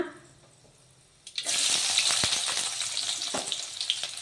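Chopped onions hit hot oil already holding cumin and mustard seeds: after a quiet start, a loud, dense sizzle erupts and keeps crackling close up, with a few clinks and stirring scrapes.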